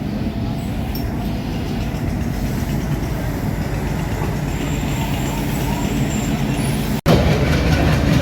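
The Nakshikatha commuter train, a Dhaka to Khulna local, pulls away from the Halsa stop with a steady loud low rumble and rattle of wheels and carriages, ending in a brief sharp cutoff near the end.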